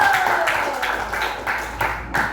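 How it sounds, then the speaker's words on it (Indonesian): A small group in a classroom coaching session claps for the first discussion group, a short burst of hand claps with rhythmic accents that fades over about two seconds. "tepuk tangan untuk kelompok satu"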